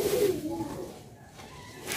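Pigeon chicks are nearby, with a short, low, throaty coo rising at the start and then fading into quiet room sound.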